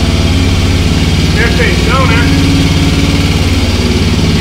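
A modified Honda Titan motorcycle, bored out to 353cc with a reversed engine setup, idles steadily and loudly up close with an even low throb while someone talks briefly over it.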